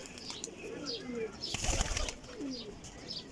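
Pigeons coo softly in repeated low phrases while a sudden burst of wing flapping rises in the middle, close and fairly quiet, among a breeder's pigeons in Jhelum, Sarai Alamgir.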